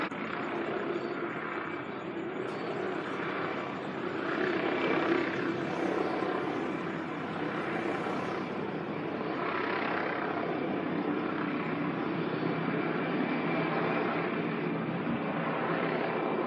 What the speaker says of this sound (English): there's a police helicopter flying up in the sky